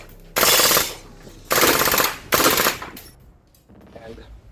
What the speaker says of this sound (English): I will fully dump this magazine in full auto, so this should be a nice spectacle to watch.